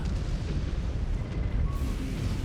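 Heavy artillery fire in MechWarrior 5: Clans rumbles as dense, continuous low booms and blasts in a loud battlefield mix, with no voices.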